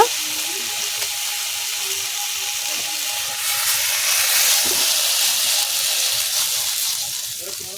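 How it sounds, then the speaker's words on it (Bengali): Ridge gourd sizzling and frying in oil in a pan, a steady close hiss with faint stirring scrapes, swelling slightly louder midway. "ঝিঙে ভেজে নামিয়ে নিয়েছি"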